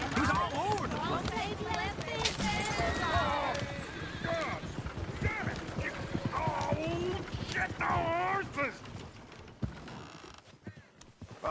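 Hooves clip-clop in a quick uneven rhythm close by in a video game, with a horse whinnying, creaking and people talking over it.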